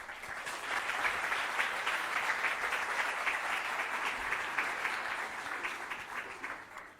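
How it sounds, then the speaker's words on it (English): Audience at the Khipu 2025 conference applauding a speaker: dense, steady clapping from a large crowd, loud and sustained for about seven seconds before tapering slightly at the end. "So please, a big applause for Sara."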